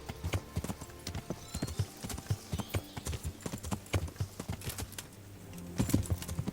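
Horse hooves clip-clopping in the video game Kingdom Come: Deliverance, a steady rhythmic trot of many close hoofbeats continuing throughout, moderately loud.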